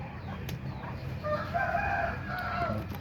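A rooster crows in the middle, a drawn-out call over soft background clucking and outdoor ambience.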